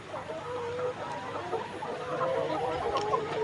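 Layer hens on a farm clucking steadily throughout, a dense, moderately loud chorus of soft clucks with no talking.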